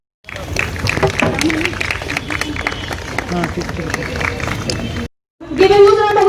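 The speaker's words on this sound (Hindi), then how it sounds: "संतोष माने के लिए जोरदार तालियां।" An audience applauds for Santosh Mane at an event in Gorakhpur: dense, sustained clapping from a crowd for about five seconds, mixed with chatter and a voice, then a brief pause before talking resumes.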